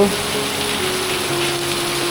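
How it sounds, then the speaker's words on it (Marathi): Heavy monsoon rain pours down on a green village in the Konkan, a loud, steady, unbroken rush of water that fills the air without pause, with no voices over it. "घरी आल्यावर एवढा पाऊस जोरात चालू झाला आहे ना"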